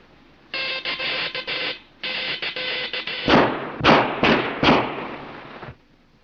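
Gunfire in a 1930 film: a buzzing, bell-like alarm sounds in two long bursts, then four heavy bangs follow in quick succession, loud and close, with no voices.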